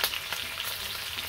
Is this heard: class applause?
no